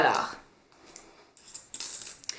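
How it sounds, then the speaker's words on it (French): Canadian coins are counted and handled by hand, a few metallic clinks and rattles coming in small clusters, close but fairly soft, with a brief breathy noise at the start and no clear talk over them. "je dois compter les pièces de monnaie"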